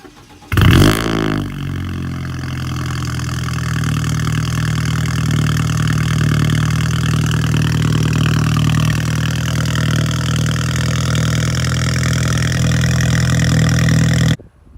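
A BMW 328i with the N20 engine and an aftermarket downpipe starts with a sharp crank, then settles into a loud, steady idle and droning exhaust note that holds close and unbroken for the rest of the clip.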